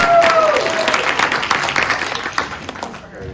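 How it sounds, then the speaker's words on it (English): An audience at a science of Pokémon panel claps for a panelist in a brief, full burst of applause that thins and fades out by the end, with a voice briefly heard over it. "Are we going to clap for her?"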